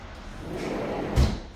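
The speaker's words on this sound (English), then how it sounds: "So just shut the patio door." A patio door at home slides shut, a soft rolling rush ending in one low thud, close and fairly loud, with no talking.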